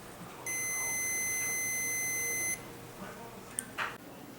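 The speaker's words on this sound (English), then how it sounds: "A lot of ohm meters also have a check mode where you can get a beep or a tone." Continuous electronic beep tone from an ohmmeter in continuity check mode, a steady high-pitched tone lasting about two seconds and then cutting off, followed by quiet room noise and a couple of faint clicks.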